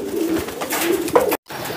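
A pigeon coos softly nearby, a low, throaty warbling call, ending with a brief cutoff.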